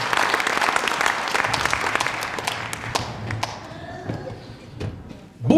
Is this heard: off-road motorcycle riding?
no